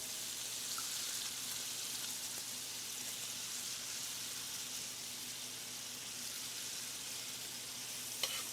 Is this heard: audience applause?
no